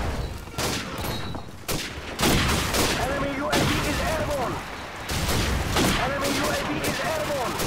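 Rapid gunfire from an LMG in Call of Duty 4 on PC, with bursts of sharp shots that run through most of the clip, while game sounds play in the background.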